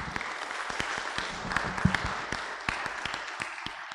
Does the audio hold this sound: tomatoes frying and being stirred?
no